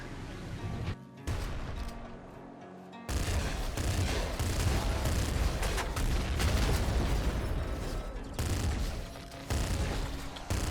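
Heavy gunfire and explosive blasts from a super bazooka in the video game Nuclear Throne, a dense, continuous barrage of booms and bursts with brief dips between volleys.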